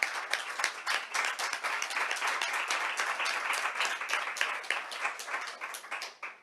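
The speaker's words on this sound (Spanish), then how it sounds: "Un aplauso, ¿no?" An audience at a press conference in Spain applauds with dense, even clapping that holds steady for several seconds before tapering off, heard from within the room.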